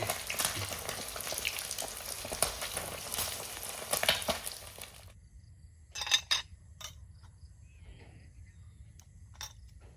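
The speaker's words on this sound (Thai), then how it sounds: "กำลังทอดปลา" Fish frying in hot oil makes a dense, close crackling sizzle for about five seconds. It then drops to quieter pops and a few sharp clinks of utensils against the pan, with no talking.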